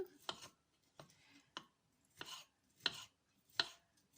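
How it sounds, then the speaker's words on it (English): A knife cuts through a kiwi on a board, quartering it with six separate crisp chops spaced roughly evenly, close and fairly quiet with silence in between. "I'm just going to do the bridge to slice the kiwi, cut it into quarters."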